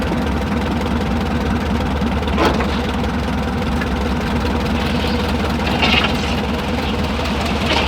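An old engine idles at a harvest festival as its carburetor is tuned, a loud, steady low chugging rhythm with a couple of brief louder surges, close and continuous.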